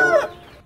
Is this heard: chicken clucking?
yes